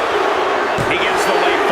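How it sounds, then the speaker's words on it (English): A crowd roars and cheers inside a WWE 2K25 wrestling arena during an Extreme Rules match, a loud, continuous wash of voices with a commentator speaking over it. "A deafening cheer from the WWE Universe is reverberating around us."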